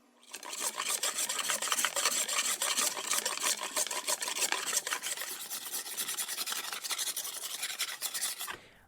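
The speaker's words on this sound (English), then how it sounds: "hear some of the sounds of him chipping away and chiseling" Wood being chipped and chiseled by hand, giving a dense, steady rasping and scraping texture that runs nearly continuously for about eight seconds at close range before stopping abruptly.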